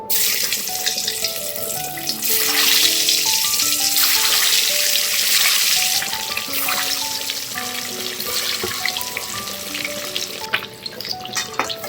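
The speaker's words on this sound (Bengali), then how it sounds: "এবার এতে আস্তে আস্তে আঁচটা কমিয়ে ডিমগুলো ছেড়ে দেব" Boiled eggs fry in hot oil in a kadai, giving a loud, steady sizzle with bubbling and crackle throughout. It swells in the middle and eases off toward the end.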